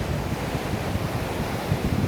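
Indian Ocean waves breaking on the shore at Colombo, Sri Lanka, a steady rushing wash mixed with gusty wind buffeting the microphone, with no voices.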